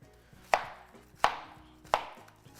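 A knife chops large scallions on a cutting board for Jamaican steamed cabbage, four crisp, close thuds spaced under a second apart, each with a short crunchy tail, and no one speaking.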